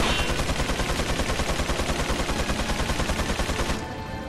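Sustained rapid automatic gunfire in Resident Evil 4 plays as an evenly pulsing loud stream of shots for nearly four seconds, then cuts off abruptly into quieter ambience.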